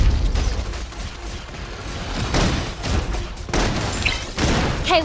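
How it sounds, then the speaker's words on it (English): Gunfire and explosive bursts from the sci-fi video game Love and Deepspace, several sharp shots and booms over a continuous low rumble of combat and music. "Requesting full suppression gunfire."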